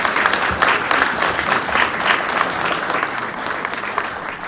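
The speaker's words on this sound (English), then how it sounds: "Can we give them another round of applause?" A crowd at a board of education meeting applauds, steady dense clapping with a few voices, holding at a fairly even level throughout.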